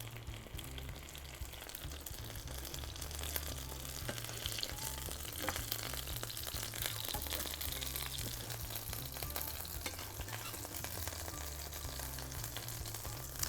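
Tortillas fry in a hot pan for chicken tacos, giving a steady, dense sizzle over a low rumbling hum that holds evenly for the whole stretch without any pause.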